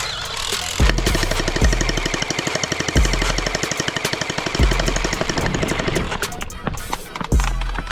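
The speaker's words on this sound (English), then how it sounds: "I can't do anything because he has a minigun." A gel blaster minigun fires in rapid sustained bursts, a loud close mechanical rattle of quick shots broken by brief pauses between volleys.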